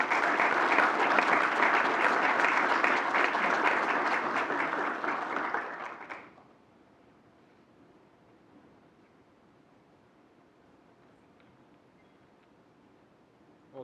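An audience at the USS Bremerton inactivation ceremony applauds loudly and steadily for about six seconds to welcome Captain Tom Anderson, then the clapping stops abruptly into quiet room tone.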